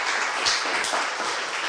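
Audience at a school reception applauding principals, a short burst of dense clapping from a room full of people, steady and fairly loud.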